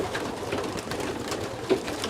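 Racing pigeons in a loft give soft, scattered coos and rustles, faint and close, set against a steady bed of background noise.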